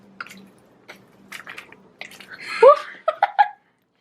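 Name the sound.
cold water poured into brownie mix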